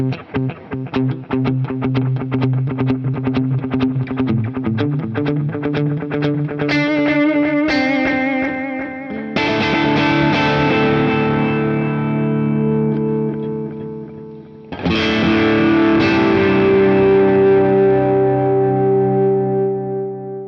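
An electric guitar runs through the delay of a Boss Katana DC-30, with fast strummed chords and then single ringing notes whose repeats trail off, distorted and loud, with no talking.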